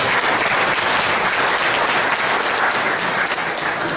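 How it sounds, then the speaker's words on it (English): Audience applause fills the room, loud, steady and dense, with continuous clapping throughout and no talk over it. "You should probably give yourself an applause."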